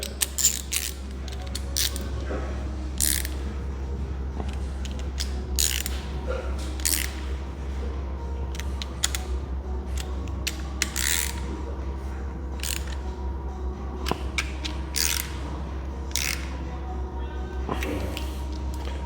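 A ratchet tightens bolts on a Kia/Hyundai D4FD 1.7 CRDi diesel engine during a timing chain replacement, giving repeated sharp clicking bursts scattered through the clip over a steady low hum.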